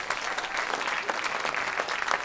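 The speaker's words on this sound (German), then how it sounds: "einen grossen Applaus an Martin" An audience at a festive concert gathering claps steadily, a close, dense patter of applause sustained evenly for a couple of seconds with no talking.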